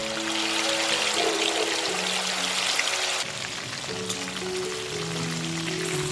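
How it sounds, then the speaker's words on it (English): Steady hissing sizzle of chicken pieces frying in hot oil in a wok, continuous and close, with a faint tonal hum underneath and no voices. "I am half frying the chicken in 2 batches"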